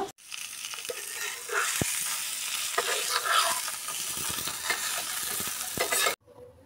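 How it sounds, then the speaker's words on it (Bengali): Elephant foot yam and potato frying in a pan, a steady close sizzle with scraping stir strokes and occasional sharp clinks, running unbroken for about six seconds before cutting off abruptly. "ডালের বড়া ভাজা হয়ে গেছে, এবারে ওল আলু ভেজে নেব।"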